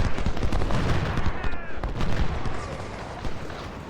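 Massed gunfire and artillery from a Civil War battle in Ultimate General: Civil War crackle in rapid, overlapping volleys with dull booms underneath, loud at first and easing slightly toward the end.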